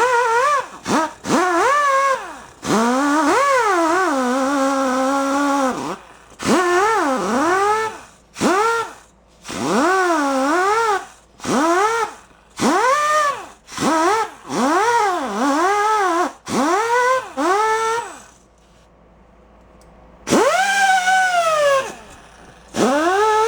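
A wire wheel spun on a power tool scrubs the cylinder head of a Honda SL 125 during a top-end engine rebuild. It comes in repeated short bursts of whirring that rise and fall in pitch, with brief pauses between them.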